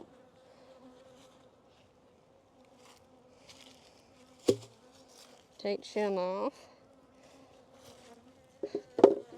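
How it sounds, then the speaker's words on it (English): Bees buzz in an opened beehive in January as a faint, steady hum under a short spoken remark, with a few knocks and clatters from hive parts being handled. "There's a lot of good bees in this one too, as you can barely tell, but you can see."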